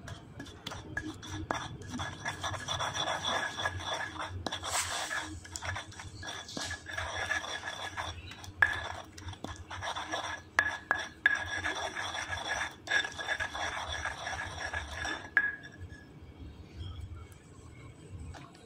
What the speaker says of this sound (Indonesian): Ini diaduk-aduk ya, dihaluskan sampai rata.